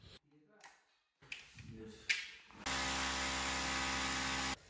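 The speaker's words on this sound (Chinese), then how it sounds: "先在木板上把14的孔开好。" A power drill bores a 14 mm hole through a wooden board during TV wall installation, a steady loud whirring burst of about two seconds following some brief tapping and handling noises.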